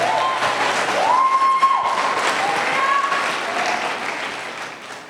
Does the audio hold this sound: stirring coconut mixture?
no